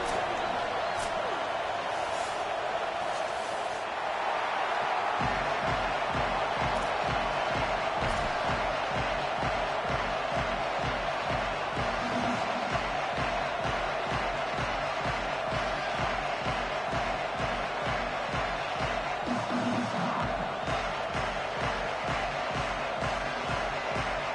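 A home crowd at Alabama cheers loudly before an Oklahoma vs Alabama college football video game kicks off. The broad roar turns into a rhythmic, pulsing chant or stomp partway through and keeps going to the end.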